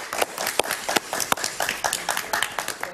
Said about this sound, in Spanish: Un aplauso para Horacio Medina.